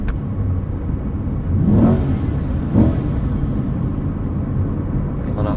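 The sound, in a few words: Chevrolet C8 Corvette engine revving in neutral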